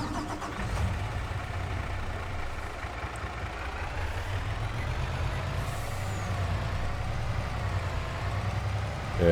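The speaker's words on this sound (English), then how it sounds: "Let's go grab our Mac Anthem truck." Mack Anthem truck in Farming Simulator 22: a steady low diesel engine drone runs throughout, with faint rising whine tones and a short air brake hiss near the middle, moderately loud and without speech.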